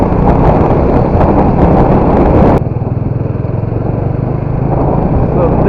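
A motorcycle rides along a road near Bangalore with heavy wind buffeting the microphone, a loud, steady roar of engine and rushing air that drops slightly partway through and continues unbroken.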